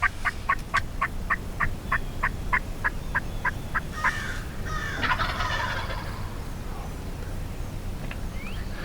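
A wild turkey gobbles at dusk in South Carolina woods, a rapid, rattling series of gobbling notes at moderate distance, followed by a softer burst of calls, with no talking.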